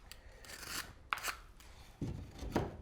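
A utility knife scrapes and rasps as it trims a drywall patch piece, a few short gritty cutting strokes close by with pauses between them.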